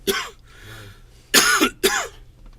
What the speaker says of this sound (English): I'm just coughing from my last one.